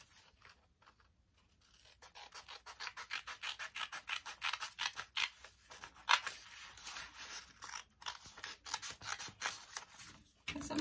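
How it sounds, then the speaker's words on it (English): Scissors snipping through template material while shaping a custom flask cover, a steady run of close rasping cuts that strengthens after a quiet start, no voices. "So we're going to cut this piece off."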